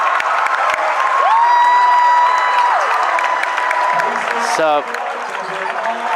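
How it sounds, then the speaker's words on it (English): A boys' high school basketball crowd in a Division 3 quarterfinal, Dover-Sherborn at Old Rochester, roars and applauds as a steady wash of noise, with whistles and squeaks rising above it and a voice speaking briefly near the end. "And the crowd goes crazy."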